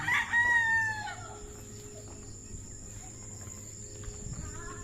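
A rooster crows once, loud and near, at the start on a rural farm plot with papaya plants, followed by a steady insect drone and faint background hum.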